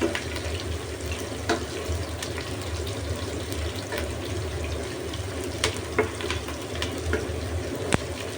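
Onions fry in oil in a pan where kikiam was just fried, for pansit canton guisado, giving a steady hissing sizzle with scattered small pops and occasional clicks of utensils stirring.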